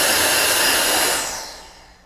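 A Roedix R9 cordless electric air duster blows a loud, close, steady rush of air that winds down and fades out over its last second.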